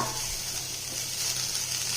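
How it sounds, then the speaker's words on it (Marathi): Finely chopped fenugreek leaves dropped into hot oil tempering with turmeric, sizzling and crackling steadily up close while being stirred in the pan, with no talking. "आता जी मी मेथी बारीक चिरून घेतलेली आहे, ती या"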